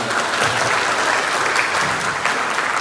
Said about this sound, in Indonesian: Beri aplaus untuk beliau.